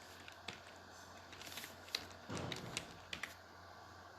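Computer keyboard keys tapped while entering a name as text in Solidworks, short bursts of quiet close clicks with pauses, a few sharper single strokes, no voices.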